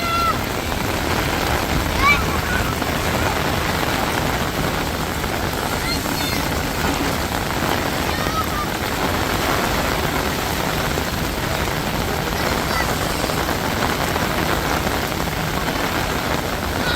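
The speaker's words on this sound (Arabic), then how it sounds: "الآن بدأت أمطار غزيرة" Heavy rain pours steadily at Masjid al-Haram in Makkah on a Friday evening, a dense, even hiss that stays loud throughout while voices murmur beneath it.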